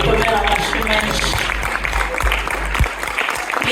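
Church audience applauds with steady, dense clapping throughout, a sustained round of hand claps filling the room while a voice talks over it.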